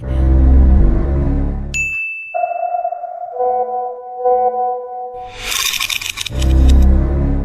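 A phone message notification chimes in a dramatic scene, a bright ding followed by a sustained ringing, sonar-like tone with layered pitches, set between louder swells of music and a rushing effect.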